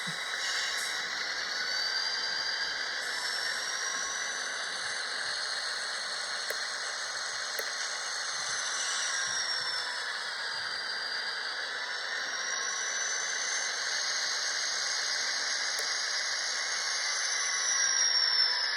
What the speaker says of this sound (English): that is the throttle up sequence when you put the locomotive into a forward or reverse